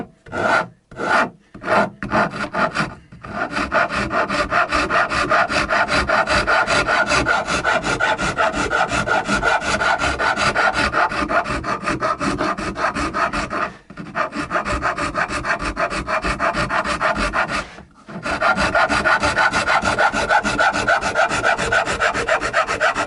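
A Shinto rasp cuts into Indonesian hardwood, the first few strokes separate and then a steady, loud run of rapid rasping strokes near at hand, broken by two brief pauses.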